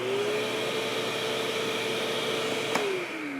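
A DeWalt Stealthsonic wet dry vacuum runs with a steady, fairly quiet whir and hiss at close range, its pitch dropping slightly as the motor winds down near the end.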